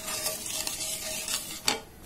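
A spoon stirs sugar syrup in a pan, soft swishing strokes over a low simmering hiss, with one sharper scrape near the end.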